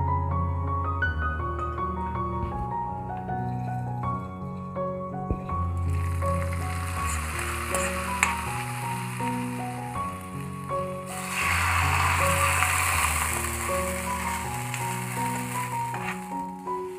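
Hot tempering with browned onions poured into a traditional Kerala prawn and potato curry, giving a hissing sizzle that swells in two bursts over steady background music.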